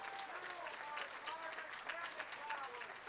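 A crowd at a Tacoma celebration event claps in sustained applause, dense and steady throughout, with voices mixed in beneath the clapping.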